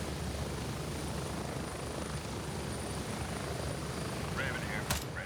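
A helicopter in the military shooter Gray Zone Warfare drones steadily, a continuous rotor and engine wash close and constant throughout, with a brief sharp gunshot-like crack near the end.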